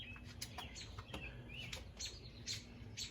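Baby birds in a nest chirp in quick, thin, high tweets, scattered repeated calls over a faint, steady background hum, close but quiet, with no talking.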